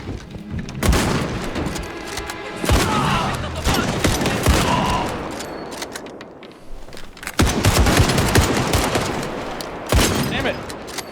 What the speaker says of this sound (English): they break out some kind of belt-fed machine gun and just tears through everything